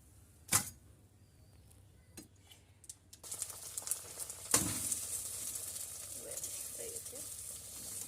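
An egg paratha fries in a pan. A few clacks and knocks come first, then a steady close sizzle with occasional bumps, and no talk is heard.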